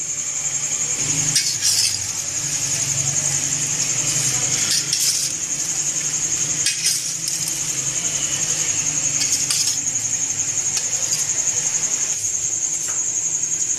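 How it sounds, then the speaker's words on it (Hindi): A spoon stirs spice masala through chopped mango, green chilli and lemon for a traditional mixed pickle, with repeated close scraping and light clinking over a steady high-pitched hum, no talk. "मसाला मैंने अच्छे से मिक्स कर लिया"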